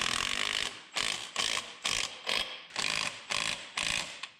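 A ratchet tightens engine motor mount bolts on a Chevy C-10 fitted with a blown small-block 350, clicking in about eight close, even bursts separated by short pauses.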